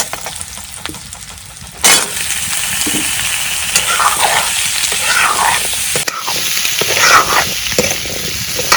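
Chopped onion hits a hot pan for a sweet bottle gourd and egg curry, bursting into a loud, continuous sizzle after a quieter start, with stirring scrapes mixed in close by.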